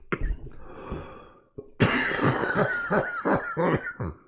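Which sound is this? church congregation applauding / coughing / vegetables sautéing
coughing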